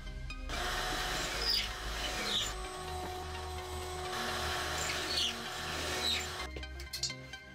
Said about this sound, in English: cut them to size and drilled pocket holes into them